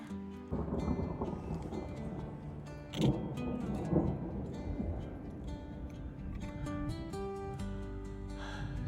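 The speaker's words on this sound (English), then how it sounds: "Starting to hear thunder." Low, rolling rumble of distant thunder with wind buffeting the microphone, a couple of heavier swells rising through the steady outdoor noise on a mountain trail to Truchas Lakes.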